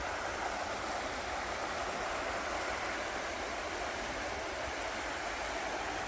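A small middle Georgia creek near Jackson County, swollen by several days of rain into a moderately sized river, rushes with a loud, dense, unbroken roar of flowing water, steady throughout with no voices.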